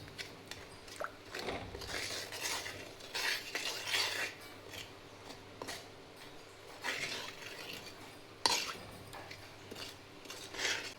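A spoon scrapes and clinks against a pot while stirring a masala of oil, turmeric and red chilli powder for murmura chivda, in irregular close bursts with occasional sharper knocks and no talk.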